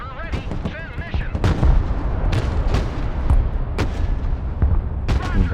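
Mobile artillery in the war game Broken Arrow fires a barrage: repeated heavy booms and rumbling blasts at irregular intervals over constant low battle noise, with radio-style voice chatter mixed in.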